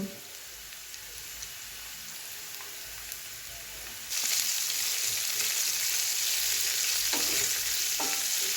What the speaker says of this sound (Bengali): এখন আমি সেটাকে নাড়াচাড়া করে কেটে রাখা ক্যাপসিকাম